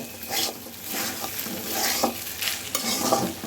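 Rice frying in hot oil in a pan for egg vegetable fried rice, with steady close sizzling and repeated scraping stirs of a spatula throughout.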